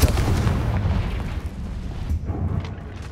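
Confringo fire spell blasting in Hogwarts Legacy, a loud booming explosion that rumbles and fades over a few seconds.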